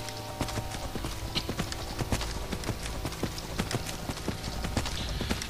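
Rapid, regular hoofbeats of a galloping horse in the video game The Elder Scrolls V: Skyrim, a steady clip-clop rhythm over a low continuous background hum.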